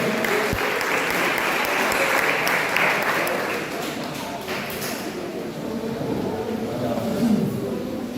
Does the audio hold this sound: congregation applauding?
yes